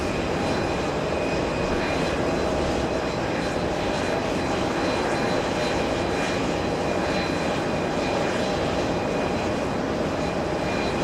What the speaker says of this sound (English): ITA flying in from Rome. 9 hours of flight time. That's an A330-200